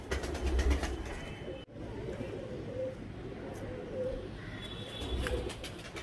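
Soft cooing from a dark-coloured male Chapdaar Teddy pigeon repeats in low, gentle phrases against a faint background hum, with a brief dropout partway through.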